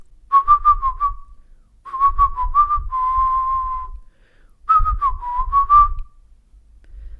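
A short whistled jingle from The Simpsons' Eye on Springfield segment, played in three bright phrases separated by brief pauses, clear and close with no talking.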